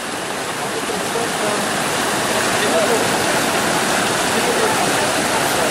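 A small waterfall on the Bruce Trail in spring pours with a steady, loud, close rushing and splashing that fills the whole stretch without a break.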